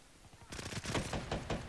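Rapid gunfire from the Gorgon weapon in Black Ops 3 multiplayer gun game bursts in after a quiet half second, a close, loud string of overlapping shots and impacts.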